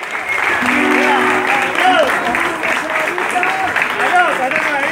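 A live concert audience in Santa Fe claps and cheers loudly while voices call out over the applause, a lively continuous crowd sound.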